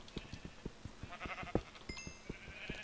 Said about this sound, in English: Okay, it was a sheep.